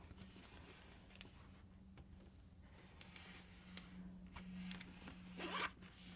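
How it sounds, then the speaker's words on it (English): A zipper pocket on the back of a travelers notebook cover is pulled open and closed in a few quick, faint strokes, with soft handling noises between them. "in the back it has a zipper pocket as well."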